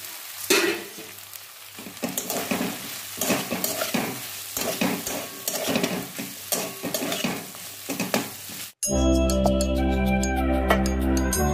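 Fried potatoes drop into a sizzling pan and are stirred with repeated scraping and clattering for several seconds. The stirring then cuts abruptly to steady music.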